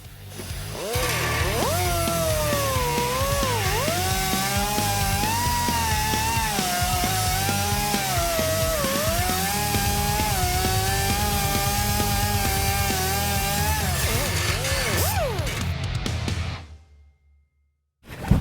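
A power tool cuts into a car's wheel well, producing a loud, continuous whining grind with a wavering pitch for about fifteen seconds before it winds down and stops. No one speaks.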